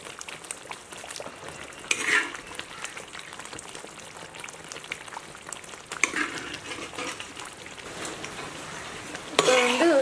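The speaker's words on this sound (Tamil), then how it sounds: "இப்போ வந்து இந்த அவிச்சு வச்ச கறியை இதில் சேர்த்துடணும்." Boiled chicken pieces tossed into hot oil and kadai masala, sizzling and frying with stirring scrapes and clinks of a spoon against the kadai, close by, with louder bursts as the meat is turned.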